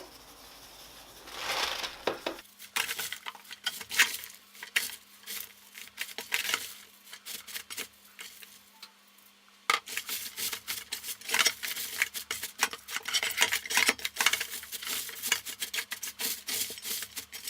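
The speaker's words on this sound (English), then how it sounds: "This is about 1/3 cup salt. I'm going to sprinkle over the cabbage." Coarse salt sprinkled over savoy cabbage for vegan kimchi, a dry rustling, crinkling patter of grains landing on the leaves in uneven bursts, close and alone with a brief pause midway.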